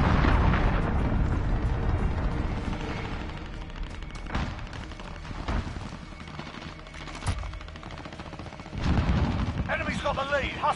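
Cruise missile strikes and gunfire in a console shooter game: heavy booms land several times over continuous rattling fire, and voices sound faintly in the mix.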